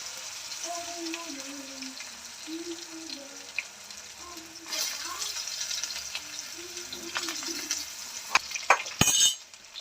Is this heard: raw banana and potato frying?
yes